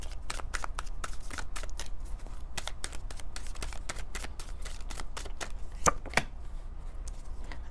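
Tarot cards are shuffled by hand to draw a clarifier, giving rapid, crisp riffling bursts in quick succession, close and fairly quiet, with a couple of sharper snaps near the end.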